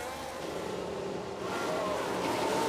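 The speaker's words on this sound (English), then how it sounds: "I heard a car" A racing car from F1 Manager 2022 passes at a distance, its engine a steady hum that swells slightly toward the end, heard alone without talk.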